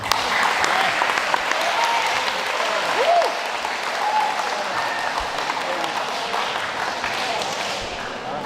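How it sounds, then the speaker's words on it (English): An audience at a yearbook dedication gives a round of applause, dense steady clapping filling the room throughout with faint voices mixed in. "give them a round of applause"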